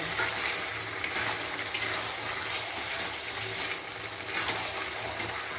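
Spicy red chicken is sautéed in a pan, giving a loud, continuous frying hiss with rhythmic scraping of a spatula stirring the pieces up close.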